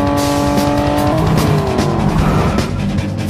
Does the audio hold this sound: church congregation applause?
no